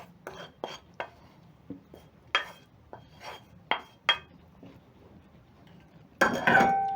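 Sausage is dropped piece by piece into an oiled cast iron pan, giving a series of separate knocks and clunks, followed near the end by a louder burst of hissing noise.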